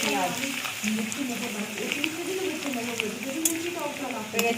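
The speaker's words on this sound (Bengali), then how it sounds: "রসুনটা হালকা ভেজে নিচ্ছি" Garlic frying lightly in an oil pan for a mutton curry, a steady close sizzle and crackle with occasional stirring clicks under a woman's speech.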